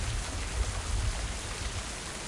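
Steady rain pours down at night in the game Mind: Path to Thalamus, a dense continuous hiss with low rumble, constant and close, no voices.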